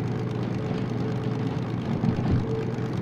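The diesel engine of a DM3 locomotive in the Derail Valley train game drones in a steady low mid-pitched hum, continuous and moderately loud, with a slight swell near the end.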